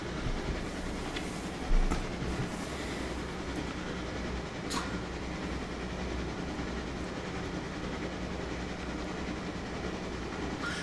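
A locomotive in the railway game Railroader rolls along the track with a steady rumbling drone and rhythmic clickety-clack, one louder clunk early on, playing continuously with no talk.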